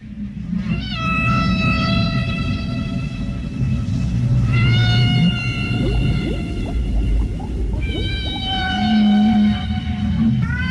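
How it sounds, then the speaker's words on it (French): Whales calling out to their calves in long, rising and gliding tonal cries that repeat several times, loud and close over a steady deep rumble of water. "les chants des baleines qui appellent leurs baleineaux"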